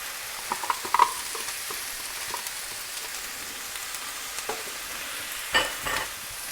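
Onions fry with mushrooms in a pan, a faint, steady sizzle broken by occasional scrapes and clicks of stirring.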